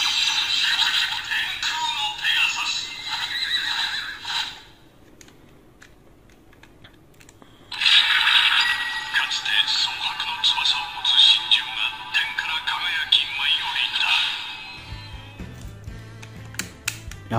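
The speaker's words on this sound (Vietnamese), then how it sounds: "đó là âm của cái bút tay Kuno Pegasus này các bạn" Electronic voice and effects play from a Kamen Rider DX Tenkuu no Pegasus Wonder Ride Book toy, two loud bright bursts split by a quieter pause and ending with a short low tone, no talking.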